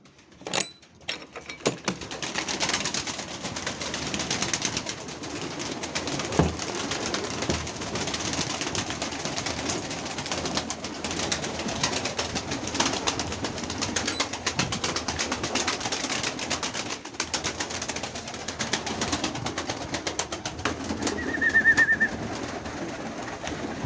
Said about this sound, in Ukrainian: Вечірнє кормління голубів.